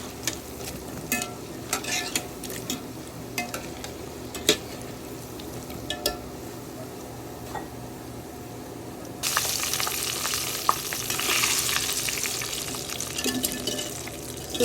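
Chin chin dough fries in hot oil with a constant crackling sizzle and scattered clinks of stirring, and partway through a louder rush of bubbling takes over.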